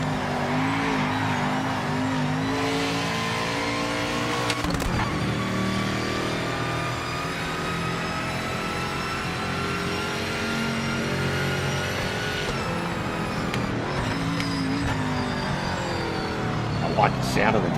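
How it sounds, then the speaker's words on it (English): Racing car engine in a Gran Turismo-style racing video game, loud and continuous with revving, pitch sweeps from downshifts and gear changes, occasional tire noise, while someone talks over it. "I like the sound of the downshifts."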